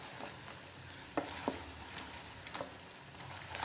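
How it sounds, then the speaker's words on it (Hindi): Capsicum and chicken stir-frying in a pan, giving a faint, steady sizzle broken by a few soft scrapes and taps of stirring. "ये देखें शिमला मिर्चें मैंने डाल दी हैं, अब भून लें ऐसे।"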